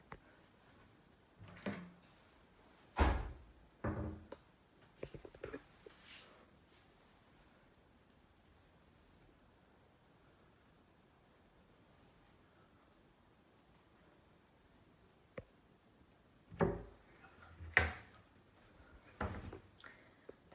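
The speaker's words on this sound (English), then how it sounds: "these are push close functioning cupboard doors." Push-to-close cupboard doors in an apartment kitchen are pressed shut one after another, giving soft thuds and light knocks in two clusters separated by a long quiet stretch, with faint rustling between.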